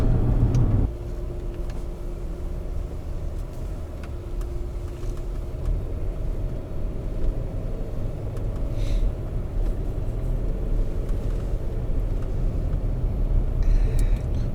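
A Land Rover TDV8 drives along a narrow country road, its engine and tyres producing a steady, loud interior rumble that continues throughout.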